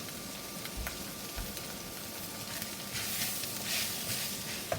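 Chopped onion with shallots or spring onions frying in olive oil for a curry, a faint, steady sizzle and hiss that grows a little stronger partway through, with a few soft clicks.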